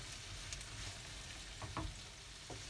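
Onions sauté in a pan, a quiet, steady sizzle with a few soft stirring scrapes and taps from a utensil close by.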